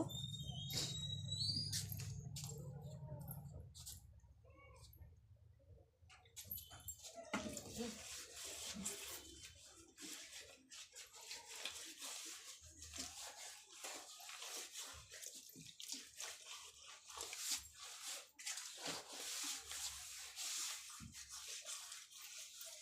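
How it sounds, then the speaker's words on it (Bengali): Water splashes and trickles as a small home shrine is rinsed clean, with scrubbing and irregular dripping close by, fairly faint overall and mixed with light household noise. "আমি মায়ের মন্দিরটা জল দিয়ে ধুয়ে নেব"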